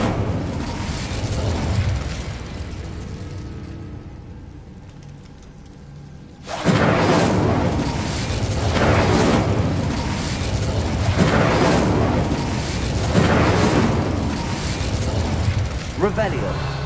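Incendio fire spell effects in Hogwarts Legacy: after a quieter stretch, a sudden loud whooshing burst erupts and keeps roaring in repeated surging waves, with spell casting mixed in.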